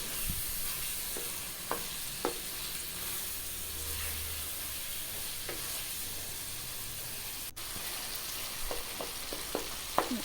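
Chopped tomatoes fry in a pan for an arvi chicken curry, giving a steady close sizzle and hiss, with intermittent scrapes and taps of a spoon stirring through them.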